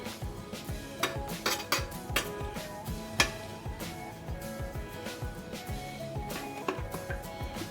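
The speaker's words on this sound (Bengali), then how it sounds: "একটা হলদি পাউডার এটা আমি মিশিয়ে দেবো ভালোভাবে" Turmeric powder is mixed into hilsa fish pieces in a bowl, giving a busy run of clinks, taps and scrapes against the dish.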